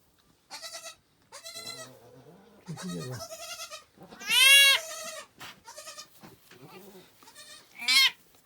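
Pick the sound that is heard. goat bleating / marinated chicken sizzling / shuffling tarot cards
goat bleating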